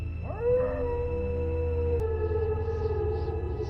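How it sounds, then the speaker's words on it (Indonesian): A wolf howls in a long, sustained rising-then-steady cry over a snowy wilderness setting, fairly clear and prominent with a low rumble beneath, no talk. "Niat buruknya tiba-tiba terhenti ketika ia mendengar auman serigala di kejauhan."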